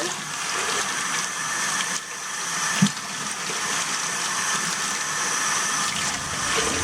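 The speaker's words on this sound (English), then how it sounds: "So I mixed in 4 cups of hot water." Four cups of hot water are poured into a powder and mixed, giving a steady, close rushing splash with a brief knock partway through.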